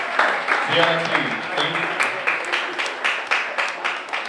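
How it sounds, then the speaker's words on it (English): Applause from an audience at a 2019 CcHUB Media Fellowship exhibition event, honoring film award winners; steady, dense clapping that stays fairly loud throughout, with a brief spoken thanks over it. "A round of applause for them, please."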